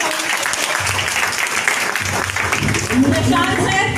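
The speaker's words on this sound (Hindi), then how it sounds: "एक जोरदार तालियां बजाइए।" An audience at an event claps loudly for a mentor, dense sustained applause filling the room, with cheering voices and crowd noise mixed in toward the end.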